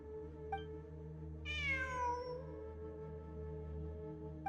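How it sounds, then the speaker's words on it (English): A single drawn-out cat meow in the Genshin Impact video game, clear and fairly close over a steady low background hum, with a couple of faint ticks around it. "It really is a cat."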